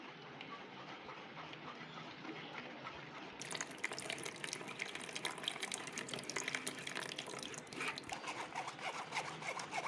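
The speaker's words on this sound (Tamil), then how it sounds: "இப்போ இதை வடிகட்டி எடுத்துக்கலாம்." Blended watermelon juice trickles and splashes faintly through a strainer into a container, a soft continuous liquid pour with light rustling that grows busier partway through.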